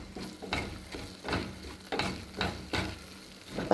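Semolina and grated carrot fry in a pan on a low gas flame, with soft rhythmic scraping strokes of a spoon about every half second over a faint steady sizzle, fairly quiet and close.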